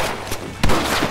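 Gunfire in Red Dead Redemption comes as a couple of sharp, loud shots, a softer one followed by a heavier crack, over a steady noisy game background.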